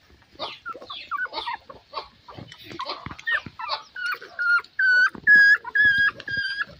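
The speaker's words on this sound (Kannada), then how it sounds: "ನೋಡಿ ಈ ಪಪ್ಪಿ ಶಿಡ್ಜಗಳು ಜೊತೆ ಆಟ ಆಡಕ್ಕೆ ಹೋಗ್ತದೆ." A puppy romping with Shih Tzu puppies during morning play, giving a rapid string of squeaky yips and whines that grows louder into sustained high yelps, close and without talk.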